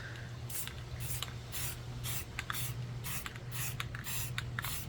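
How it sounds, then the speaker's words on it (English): Repeated short hisses of an aerosol spray can, about a dozen bursts in quick succession, close and fairly quiet over a low steady hum. "So I'm going to spray paint these."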